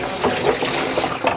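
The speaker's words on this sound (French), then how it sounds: "Vous rincez une fois." Water running into and rinsing a blender bowl, a brief close splashing gush with steady flow and no voices.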